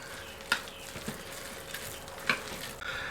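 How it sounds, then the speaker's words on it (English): Fried ground beef being stirred into a burrito bowl mix in a crock pot makes a soft, low hiss with a few sharp clinks and scrapes from the spoon against the pot. "We're going to add in a pound of ground beef that we have fried up. We're going to mix it in."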